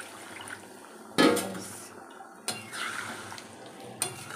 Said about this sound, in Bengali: এভাবে জল দিয়ে দেবো